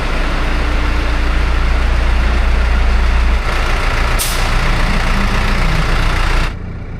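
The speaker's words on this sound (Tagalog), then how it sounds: "magte-testing naman tayo ng truck namin, yung tinatawag namin na Titan truck" A rescue team's Titan truck runs while its air and hydraulics are tested, with a steady, loud, low engine rumble and a brief sharp hiss of air midway.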